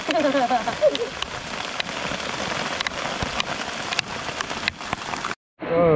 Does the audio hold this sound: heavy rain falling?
yes